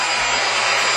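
A hair dryer blows steadily on wet paper money, a loud, continuous airy roar that holds without a break for the whole second.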